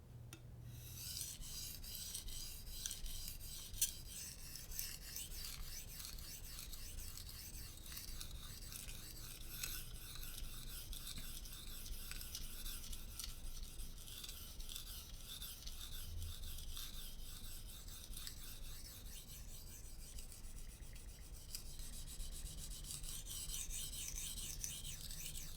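A steel blade rasps back and forth over fine Arkansas sharpening stones in steady repeated strokes, a soft, gritty scraping close at hand that carries on for the whole stretch with no voices.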